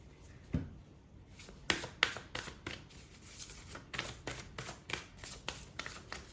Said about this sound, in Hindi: Just a second, let me take more cards.